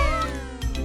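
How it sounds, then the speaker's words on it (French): A small kitten gives a short, high meow that slides downward, then a second brief mew follows, close and clear with no talking. "Regardez, j'ai trouvé un petit chat."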